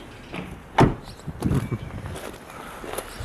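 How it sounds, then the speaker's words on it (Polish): A single solid thud of a 2016 SsangYong Korando 2.2 car door shutting, followed by a few softer knocks and rustles in a quiet space. "Odgłos zamknięcia drzwi."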